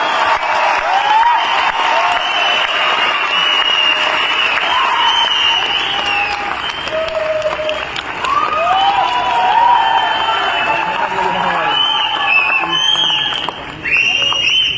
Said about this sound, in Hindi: ऐसी तालियां बजनी चाहिए कि पूरा पटना में आवाज करनी चाहिए